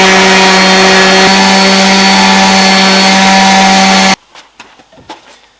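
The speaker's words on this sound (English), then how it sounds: "Just realised I haven't actually sanded and finished this, so I should probably do that before doing the profiles." A power sander running on a wooden window frame made from storm-damaged tree wood, a loud steady whirring drone for about four seconds that cuts off abruptly, followed by a few quiet knocks and handling sounds.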